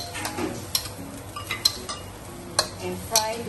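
Long beans stir-fried with sambal paste in oil: a spatula clinks and scrapes against the pan in irregular bursts over a low, steady sizzle, close up.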